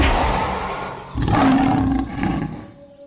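A lion lets out a loud, deep roar that swells and rumbles, then a shorter second growl that trails off into quiet, with no voices.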